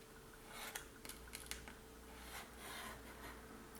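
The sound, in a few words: cutting paper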